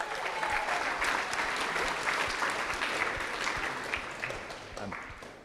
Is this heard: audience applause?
yes